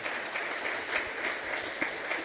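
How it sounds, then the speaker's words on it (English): Audience applause at a school governing body excellence awards ceremony in the Free State, steady clapping from a sizeable crowd heard at a moderate distance, even and sustained without a voice over it. "let's give a round of applause to our colleague in the FSGI"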